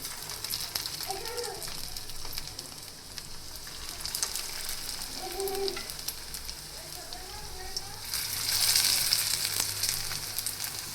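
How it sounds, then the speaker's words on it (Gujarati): Puffed rice tikki shallow-frying in a little oil in a pan, a steady soft sizzle running throughout, with faint murmurs of a voice in places and a brighter, louder crackle near the end. "બંને સાઈડથી ક્રિસ્પી થાય એ રીતે આપણે તેને તેલમાં તળી લેશું"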